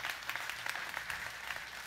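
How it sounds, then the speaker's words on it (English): A church congregation breaks into sustained applause, a dense, even patter of many hands clapping that sounds soft and somewhat distant. "There they are cheering. They're clapping."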